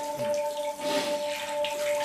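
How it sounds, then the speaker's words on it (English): Tap water runs steadily into a bathroom sink while someone splashes it onto their face, a soft continuous rush with brief wet splashes and a faint steady tone behind it. "splashing water on my face"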